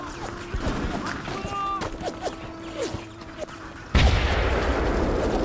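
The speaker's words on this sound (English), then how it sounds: "the grenade exploded after he died" A frag grenade blows up in the video game Full Spectrum Warrior: a sudden, loud, close blast near the end that leaves a rumbling roar of debris behind it. Before it come quieter combat effects and tonal game sounds.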